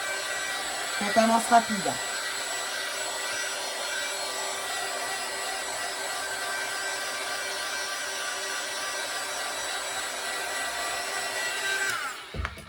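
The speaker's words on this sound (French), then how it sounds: "N'hésitez pas à passer hein, pour le bruit du heat gun." A heat gun blows hot air in a steady, constant whoosh for about twelve seconds before cutting off, with a brief voice near the start.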